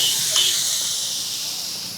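Soy sauce hits a pan of chicken pasta with a steady, bright sizzling hiss that fades slightly, close and fairly loud with no talking.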